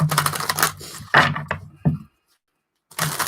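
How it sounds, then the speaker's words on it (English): Crisp riffling clatter of a card deck being shuffled, a few quick bursts close by, followed by a short silence and another riffle. "I'm just going to shuffle the deck while I do that."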